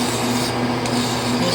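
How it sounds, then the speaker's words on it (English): Hand file lightly deburring a metal workpiece cut with a shaper tool on a metal shaper, a steady close rasping rub with a faint mechanical hum beneath. "Take the file, just clean off those burrs I raised with that shaper tool."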